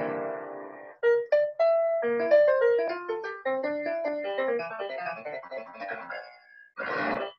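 Piano notes generated by the Piano Genie machine-learning model form a flowing classical-style melody of quick runs and chords, played clearly and alone before a short final flourish.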